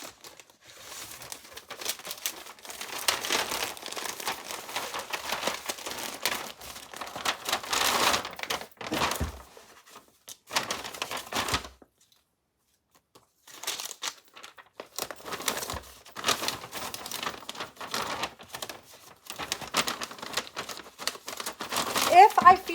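Plastic poly bags and a Tyvek mailer crinkle and rustle in close bursts as an item is packed for shipping, with a brief pause midway before the handling resumes.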